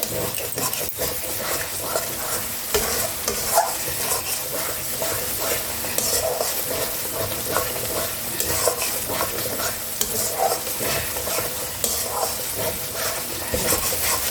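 Spice masala for Mughlai chicken frying and being stirred in a pan, with a steady close sizzle and repeated scraping of a spoon against the pan throughout, no voices.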